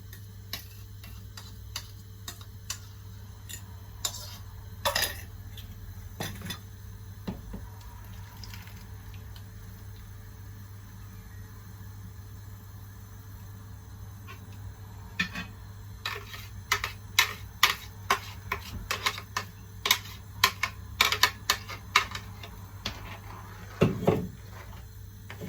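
Peppers and onions frying in palm oil for Nigerian egusi soup are stirred, with scattered utensil taps and clicks against the pot over a steady low hum, growing busier toward the end.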